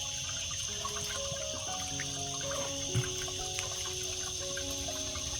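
Water from a natural spring trickles and drips faintly and continuously in a quiet outdoor spot, with one small splash partway through.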